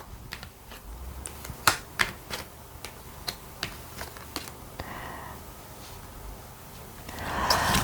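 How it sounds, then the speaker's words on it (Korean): Tarot cards being shuffled and drawn, a run of sharp papery snaps and flicks scattered over eight seconds, with a softer rustling swell near the end, close and moderately loud with no voices. "상대방 분하고 두 분의 관계 모습은 어떻게 될지 카드를 뽑아보도록 할게요."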